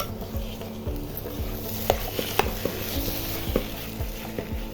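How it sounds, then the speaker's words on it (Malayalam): Samosa masala filling stirred in a pan, a soft sizzle under repeated spoon scrapes and a few sharp clinks against the pan. "നന്നായി ഇളക്കി കൊടുക്കുക"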